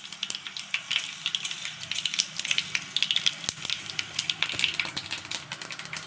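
Mustard seeds sizzle in hot oil in a kadai for tempering: a close, steady, crackling hiss studded with rapid popping bursts, with no talking.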